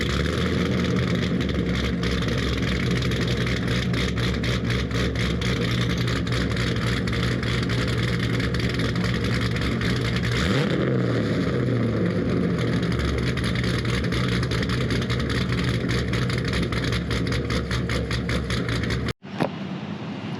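A C6 Corvette with a stage 3 cam, LME heads, headers and exhaust idles loud and close, its choppy lumpy rumble steady for about nineteen seconds before cutting off abruptly near the end.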